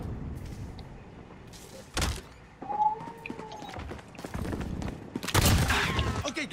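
Video game gunfire cracks in a few scattered bursts amid shifting in-game mechanical clatter and a short whistling tone, moderately loud and uneven.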